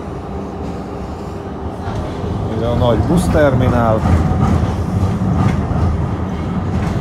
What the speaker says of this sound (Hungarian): Flirt vonat.